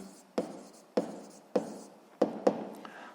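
A pen or chalk writes out a physics calculation, with five distinct tapping strokes and short scratches at uneven intervals, close by and alone.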